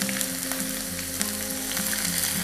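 Two medium-sized chopped onions sizzling in hot oil with curry leaves for a Kerala prawn roast, a steady close frying hiss with small crackles and occasional stirring, no voices.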